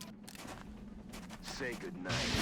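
A stun shot lands on a Thin Man alien in XCOM Enemy Within, a sharp burst of crackling energy-weapon fire and impact effects layered over game background sound, with a brighter hissing flare near the end.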